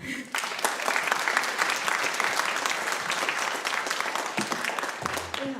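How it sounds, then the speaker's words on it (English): Sustained audience applause at a short film and motion design animation festival, a dense wash of many hands clapping steadily and fairly close for several seconds without talk. "So everyone give them applause."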